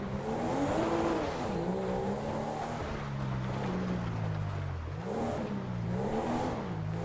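Honda Civic engine in GTA 5 revving hard and steadily as the car slides sideways, a loud continuous drone with rising and falling pitch sweeps throughout.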